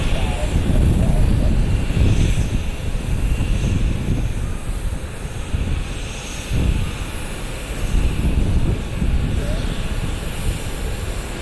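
A jet taxis toward a corner gate at Columbus airport. Its engines give a loud, steady low rumble that swells and eases slightly as it rolls closer.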